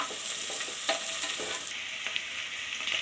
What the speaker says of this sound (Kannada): ಚಿಲ್ಲಿ ಹಾಕಿ ಹಾಗೆ ತಿರುಗಿಸ್ಕೊಡ್ಬೇಕು